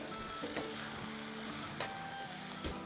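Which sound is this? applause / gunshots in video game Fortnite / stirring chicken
stirring chicken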